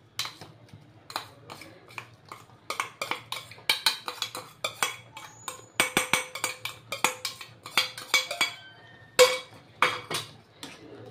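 Spatula scraping and knocking against a metal pan while stirring a thick coconut and nut sweet mixture, a continuous rhythm of loud clinks and scrapes, close up.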